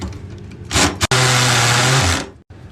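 A power drill bores into the keyhole of an old safe, starting with a short burst, then pausing briefly before a loud, sustained whine that runs for about a second before cutting off.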